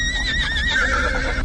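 A horse neighs and whinnies loudly and close by as a horse-drawn carriage passes, the drawn-out call rising and wavering over a steady low rumble with faint hoof clops underneath.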